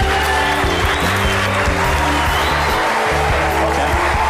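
Applause from an audience at a female bodybuilding event, continuous and fairly loud, with a low steady hum of music or machinery underneath.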